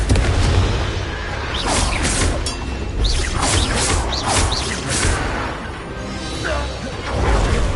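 Confringo fire spell explosions in the Hogwarts Legacy video game, repeated booms, whooshes and crashes of a hectic magic battle, loud and dense, with voices shouting over the effects.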